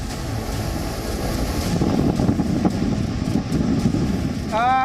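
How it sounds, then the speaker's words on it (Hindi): Strong sea waves and gusting wind batter the coast during Cyclone Biparjoy, a dense roaring wash buffeting the microphone throughout at a loud, constant level with no clear speech. "और आप देखिए बहुत तेज़ लहरें इस वक्त आ रही हैं"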